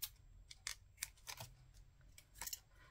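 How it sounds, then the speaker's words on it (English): Scissors snip repeatedly through card or paper while cutting a vintage Christmas craft embellishment, several quiet, crisp cuts in an irregular rhythm, close by against a faint low hum. "Easier to cut them off now than it is later."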